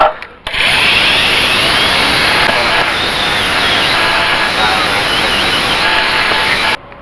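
A power tool trims sheet metal around the rear window opening of a 1946 Chevrolet, a steady, loud, close grinding whir running continuously for several seconds before cutting off abruptly.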